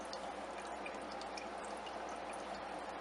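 Ethanol dripping steadily from a homemade rum still in a kitchen, a soft continuous trickle of liquid with faint drips, close and quiet, no talking.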